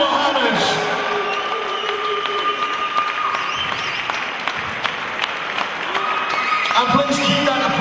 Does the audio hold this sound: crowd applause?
yes